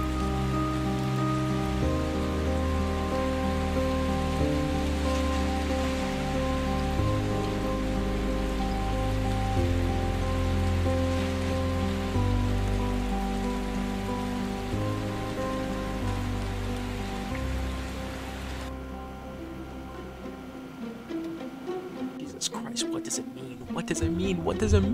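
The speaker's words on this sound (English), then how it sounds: "it is, like, pouring rain out there" Steady pouring rain forms a constant wash outdoors, heard beneath sustained music tones throughout, ending in a few scattered clattering knocks.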